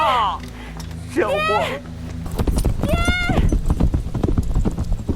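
Horses crossing a desert, hooves clip-clopping in a quick, steady rhythm close by, with a horse whinnying twice over the hoofbeats.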